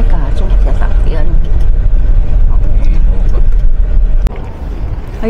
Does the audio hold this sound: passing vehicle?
yes